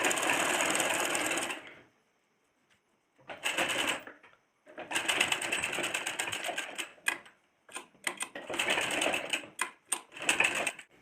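A sewing machine stitches a tiny seven-centimetre petticoat, running in loud, close bursts of rapid rattling needle strokes, with short pauses and quiet gaps between runs and no voices.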